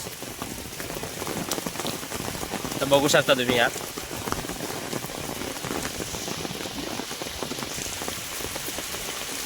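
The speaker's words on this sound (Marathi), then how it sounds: "सकाळपासून म्हणजे रात्रापासूनच हा पाऊस." Steady rain patters on a surface throughout, with a person speaking briefly partway through.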